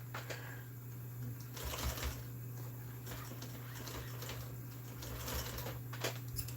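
A sewing machine stitches RV seat upholstery, giving a faint, uneven mechanical patter with intermittent bursts of rattling over a steady low hum, heard at a distance with no talk.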